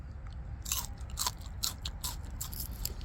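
Fresh, tender wild greens with a coriander-like flavour, gathered by a riverside, are bitten and chewed close up, giving a run of sharp, crisp crunches in an uneven rhythm over a quiet background.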